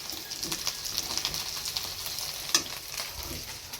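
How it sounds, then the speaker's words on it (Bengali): Potatoes fry in a pan with a continuous close crackling sizzle, punctuated by a few light stirring scrapes and one sharp clink partway through. "আলুগুলো ভাজা হচ্ছে"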